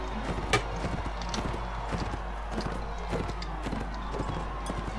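Steady clip-clop of horse hooves at a gallop, continuous and fairly close, with a brief whinny and a busy game-like background.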